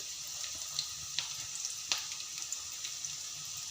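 Green moong beans frying in a mustard oil tempering, a steady close sizzle and hiss with scattered sharp crackles and pops, no talking.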